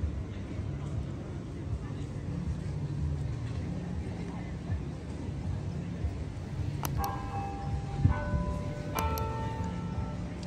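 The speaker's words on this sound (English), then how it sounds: "Maybe the bell actually rings every 30 minutes." A church bell rings out from a distance in Birmingham, UK, with a few clear chimes near the end over steady outdoor ambience, while a voice talks quietly through most of it.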